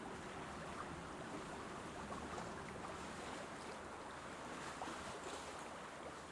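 Open-sea waves and wind form a steady, dense wash of noise that roars evenly the whole time, with no distinct breaks and no voices.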